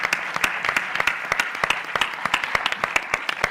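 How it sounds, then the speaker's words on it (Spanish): An audience at a symposium panel applauds, a dense burst of many hands clapping steadily and loudly throughout. "yo creo que vamos a dar un aplauso."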